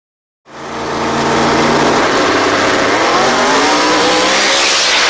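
Race cars roar in after a short silence, engines building into a loud, sustained howl as they accelerate past close by, with rising pitch and no voices over it.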